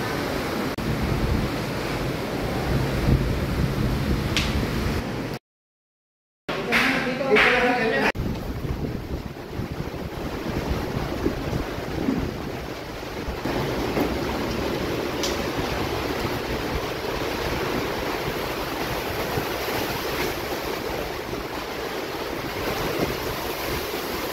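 Strong gusts from Typhoon Uwan roar continuously in San Juan, buffeting the microphone with loud, rushing noise and a brief dropout, while voices talk faintly underneath.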